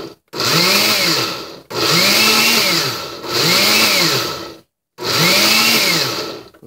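Oster Dual-Action blender on high pulse grinding peanut butter: four loud roaring bursts of a second or two each, the motor pitch sagging and recovering within each, separated by brief silences.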